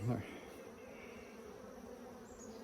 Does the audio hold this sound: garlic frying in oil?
no